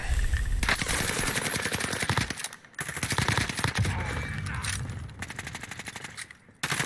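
Call of Duty Warzone gunfire rattles in dense automatic bursts, loud and sustained, with brief gaps between volleys.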